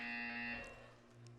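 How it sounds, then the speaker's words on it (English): A game buzzer from Portal 2 gives one loud, steady tonal blare that cuts off partway and leaves a faint hum behind. "You will hear a buzzer."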